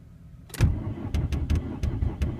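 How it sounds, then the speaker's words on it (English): A VW Jetta diesel engine cranks after a brief quiet moment, giving a burst of loud starter churning followed by a run of rhythmic, uneven chugs and pulses, close by with no one talking. "I'm still trying to start this car"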